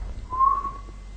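A person whistles to imitate a bow whistle, giving one brief, thin, steady tone that sits faintly over low background hum.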